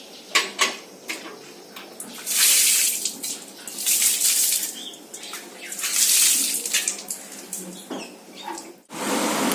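Water splashes and sprays in uneven bursts while a bicycle gets washed outdoors, with surges of rushing water, clinks and brief drips close by.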